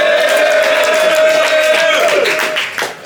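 A crowd at a rap battle event roars with loud sustained cheering and whoops for John Devlin, the sound close and continuous before it trails off at the end.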